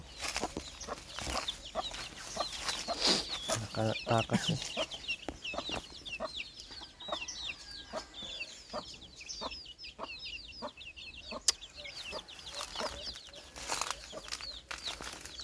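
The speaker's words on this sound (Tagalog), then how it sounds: "Ito pa oh, manok pa ito." Chickens cluck repeatedly nearby in scattered bursts, with a brief flutter of wings and a short spoken phrase partway through.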